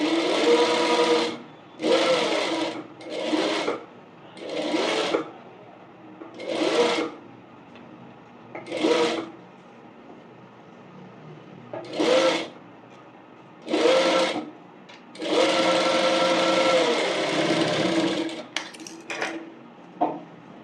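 Sewing machine stitching fabric for a bonnet in short runs, about a dozen whirring bursts of one to three seconds separated by pauses, close and clear with no talking.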